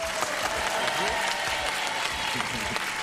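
A French game show studio audience (Mot de Passe, 2012) applauds the contestants, dense and sustained clapping close by that fills the whole few seconds, with a voice speaking over it.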